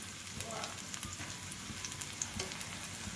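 Cauliflower pakoras coated in rice flour frying slowly in oil over low heat, a faint steady bubbling sizzle with scattered soft crackles and pops.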